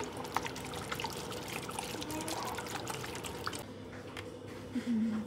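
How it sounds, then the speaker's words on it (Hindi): Vinegar poured into a ground ginger, garlic and green chili paste batter for chicken tenders, a faint, steady liquid trickle and splash lasting several seconds close by, ending in a short louder pour. "इसमें डालेंगे सरका"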